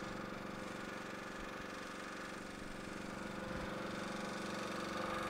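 The engine of a 2002 LeeBoy L150 pavement sealer idles in a steady, even rumble, fairly faint and unchanging, with no voices over it.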